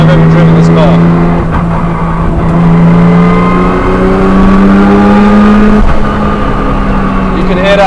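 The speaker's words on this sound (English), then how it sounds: "You can hear that gearbox screaming" A Nissan Skyline R34 GTR with twin turbos drives along, its gearbox whining loudly in steady rising and falling tones over constant engine drone, close inside the car.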